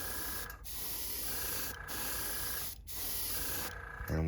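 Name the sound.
airbrush spraying air to dry paint on fishing lure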